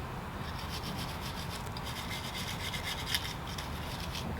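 A Glock 19 pistol rubbed down with a brush during cleaning, giving a dry, steady scrubbing scrape, close and continuous, with no voices.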